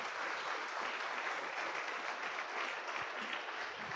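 A church congregation claps for Jesus during a Spanish-language sermon, with steady, moderately quiet group clapping continuing evenly throughout.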